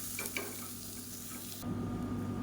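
Samba rava with onion and garlic roasts in a pan, giving a quiet, steady sizzle with a couple of brief stirring scrapes early on, then a slightly fuller hiss near the end.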